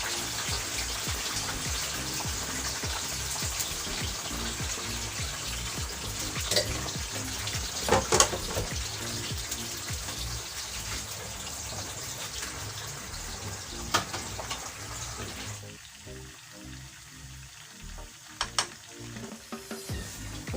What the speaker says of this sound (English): Oil is hot. I'm going to put in the sliced yam.